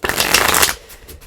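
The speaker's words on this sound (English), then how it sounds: "Let me shuffle this deck a little bit." A deck of tarot cards is riffled in one quick, close burst of papery flapping that stops abruptly, followed by a faint rustle.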